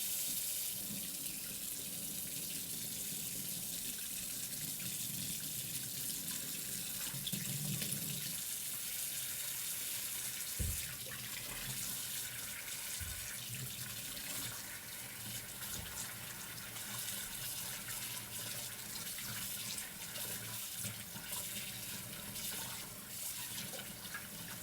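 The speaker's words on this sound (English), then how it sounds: "I'm going to fill my sink, maybe a third of the way or so with some tepid water." Tepid water runs from a tap into a sink for about twenty-five seconds, a steady rushing stream with a few faint clunks partway through.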